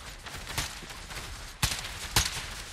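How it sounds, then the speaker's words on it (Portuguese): Gunfire in Fortnite aimed at the player comes as a few sharp cracks, two of them loud and close near the end, over a busy game background. "Ih, tá atirando em mim."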